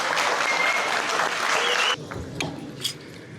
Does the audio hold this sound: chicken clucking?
no